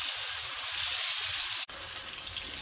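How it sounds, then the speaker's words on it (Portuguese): A beef steak fries in a pan with a steady, close sizzling hiss. The hiss cuts off sharply for a moment near the end and then comes back at a rougher, more uneven crackle. "Já estou fritando o segundo bife."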